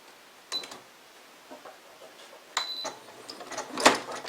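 A sewing machine backstitches a fabric seam with a half-inch allowance, giving a few short mechanical bursts of stitching separated by quiet pauses, fairly soft and close, with no talking.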